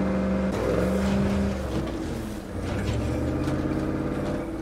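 Loud, steady car engine drone from a vehicle in the State of Decay 2 video game, a low rumble holding for several seconds with a brief dip midway.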